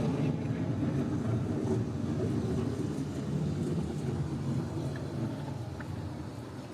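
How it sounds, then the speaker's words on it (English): A simulated thunderstorm on the Living with the Land boat ride, a continuous heavy rumble with rain-like hiss that fills the space steadily, loud and unbroken, with no voices over it. "The approaching storm may seem violent and destructive to us"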